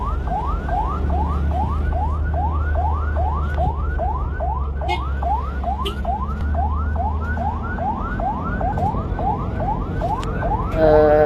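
Ambulance siren wailing in a steady repeating rise-and-fall cycle, loud and continuous for about eleven seconds over low vehicle rumble, with no voices.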